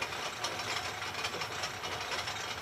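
A vintage British wartime aircraft engine winding up during start with the brakes on, heard as a steady, fairly quiet mechanical whine and rumble with no talk.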